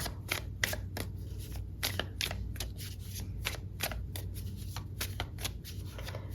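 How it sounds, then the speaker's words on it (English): A tarot deck shuffled by hand: a quick run of crisp card riffles and snaps, close and steady over several seconds with no talking. "Give these a quick shuffle."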